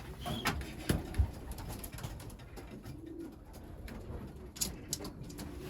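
Young racing pigeons coo and squeak softly among scattered rustles and taps, fairly close, with no talking.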